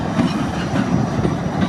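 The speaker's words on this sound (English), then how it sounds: "Let's see if there's any more trains coming." A long freight train rolls past close by, its wagons keeping up a loud, steady rumble with rhythmic clickety-clack from the wheels on the rails.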